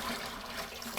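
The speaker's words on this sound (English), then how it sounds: "I just turned on water." Water runs from a 5/8-inch kink-resistant garden hose in a steady, faint rushing stream with no talk over it.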